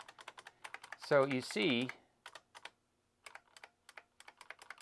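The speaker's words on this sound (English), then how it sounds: "I'm using my arrow keys now." Computer keyboard arrow keys click in scattered single taps and short bursts, close and faint, while a person speaks briefly between the presses.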